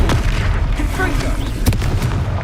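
A Confringo blasting spell exploding in Hogwarts Legacy gameplay, a dense, booming rumble with a sharper pop near the middle, sounding under a voice casting spells.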